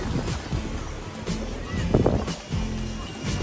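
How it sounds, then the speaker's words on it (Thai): Wind buffets the microphone at a Melbourne beach as waves come in, a gusty rushing roar that swells and dips, with someone talking over it. "The wave coming the mean the water coming ลมพัดแล้วค่ะน้ำเริ่มขึ้นแล้ว"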